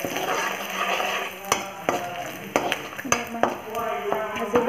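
Panch phoron spices fry in a pan with garlic, a soft sizzle broken by sharp metallic clinks and scrapes of a spatula stirring against the pan, close and irregular.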